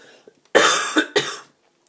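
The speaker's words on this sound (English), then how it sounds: "Sorry, I have a bit of a cough." A single person coughs a couple of times in quick succession, close and fairly loud, with brief quiet before and after.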